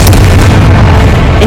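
A loud, booming blast from the Confringo spell in the Hogwarts Legacy video game, a heavy, sustained low-end explosion rumbling close and dominant throughout.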